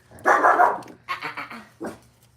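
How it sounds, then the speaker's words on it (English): A pet dog named Cookies barking indoors: one long loud bark, then a quick run of three sharper barks and a final single bark, close to the microphone. "Quit barking, cookies."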